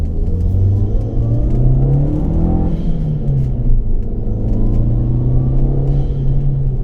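A 1.8T engine in a VW MK4 GTI fitted with a CTS turbo intake revs up and settles in a few deep, loud, rumbling swells, heard close and alone.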